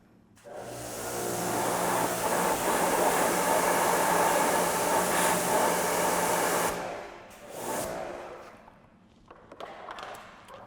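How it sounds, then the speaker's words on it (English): Water sprays hard onto a car's exhaust tip to rinse off soap, a loud steady hiss lasting several seconds before stopping, followed by shorter bursts and splashes. "I'm just going to rinse it off."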